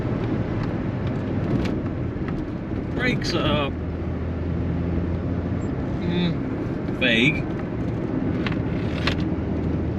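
A Rover 100 Metro's engine strains hard at 50 mph, a steady loud drone filling the cabin throughout, while a person speaks briefly over it.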